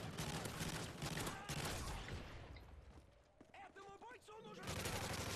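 Dense, rapid gunfire from the video game Modern Warfare 3 in Lockdown survival mode, loud and near. It thins out through the middle with scattered shots and mechanical clatter, then returns in a heavy burst at the end.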